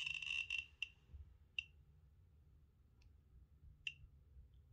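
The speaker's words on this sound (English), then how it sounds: "as you can hear if you listen to the clicking." A Radiascan 701 radiation detector gives a few sharp, isolated electronic clicks at irregular intervals, with an initial brief buzzy burst, set against a quiet low background hum.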